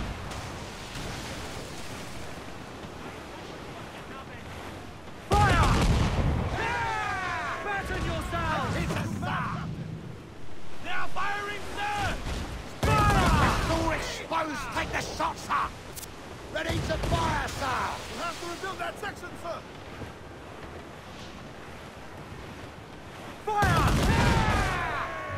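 Incoming gunfire and cannon blasts in the naval combat of Assassin's Creed Black Flag, heavy booming volleys bursting in loud clusters amid crackling shots, with people talking between and over the barrages.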